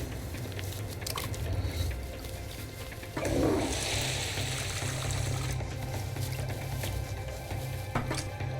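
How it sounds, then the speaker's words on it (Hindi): Water runs from a tap in a steady, hissing stream that grows louder and splashier midway, with a low background hum underneath. "सर, पानी बंद कर दिया है मैंने।"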